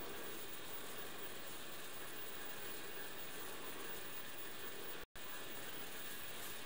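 A Schlüter 1250 RC model tractor drives forward with its electric motor running, giving a steady, faint mechanical whir and gear hum that drops out for an instant near the end.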